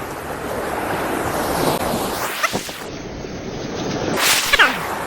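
Sea waves at Bang Saen beach: steady roaring surf with gusty wind buffeting the microphone, and two louder rushing swells breaking nearby, continuous and fairly loud with no speech.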